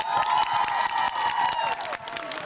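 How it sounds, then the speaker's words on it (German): Concert audience applause at a show in Rathenow, a dense, steady wash of clapping with some cheering throughout, loud and close. "Ein Applaus für die Herren hier."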